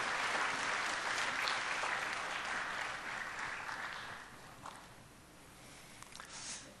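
Church congregation applause, a broad wash of clapping that thins and fades, with scattered final claps and light shuffling toward the end.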